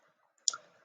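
A single sharp click of a calculator key being pressed, close and fairly quiet, in an otherwise silent moment.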